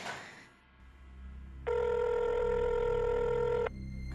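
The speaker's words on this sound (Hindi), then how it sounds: "ये खुशी फोन क्यों नहीं उठा रही है?" A steady electronic phone ring sounds for about two seconds after a brief noisy start, clear and close, with no voices.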